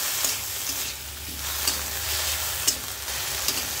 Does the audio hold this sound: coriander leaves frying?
yes